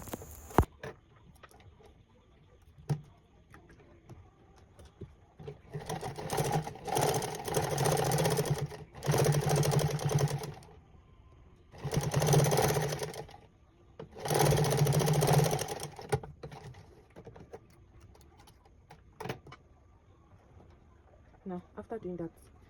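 Sewing machine stitching fabric for tailored short pants, running in several distinct bursts of a few seconds each with short pauses between, fairly loud and close, with quiet handling sounds in the gaps.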